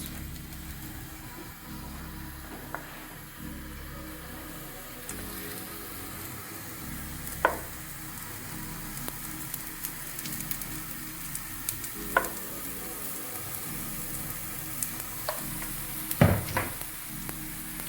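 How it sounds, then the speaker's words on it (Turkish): Small pancakes of sugared batter cook in lightly oiled hot pans, giving off a soft, continuous sizzle broken by a few faint clicks and taps, with no voices. "Tavalar kızdıktan sonra şöyle kepçe yardımıyla küçük küçük kekler oluşturuyoruz."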